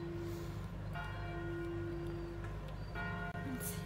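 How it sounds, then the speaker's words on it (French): Church bells ring at six in the morning, a steady sustained toll with rich overtones heard at a moderate distance over a quiet, calm backdrop. "Les cloches sonnent."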